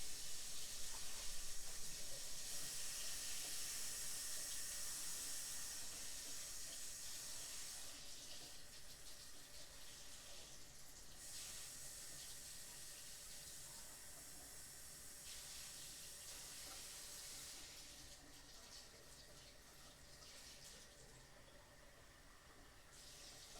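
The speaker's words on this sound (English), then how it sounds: "Now I'm going to go get the water." Water runs steadily from a kitchen tap into a measuring cup for bread dough, a continuous hissing splash that shifts in tone as the cup fills and the flow changes, heard alone without talk.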